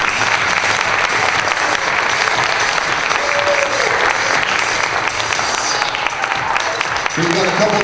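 A large pageant audience applauds for the newly crowned queens, sustained dense clapping with scattered cheers that stays loud and even throughout, with a voice coming in near the end.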